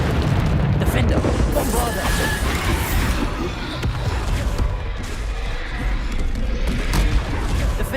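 Booming Bombarda spell blasts from Hogwarts Legacy combat erupt loudly and continuously, layered with crashes and battle noise while a voice calls out spell names over the din.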